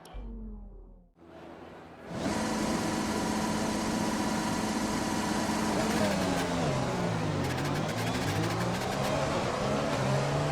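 An F1 2020 race car revs through a practice start at the Sochi Autodrom in a video game, the engine cutting out briefly before roaring up to a loud, sustained high-revving whine that wavers in pitch as the car pulls away.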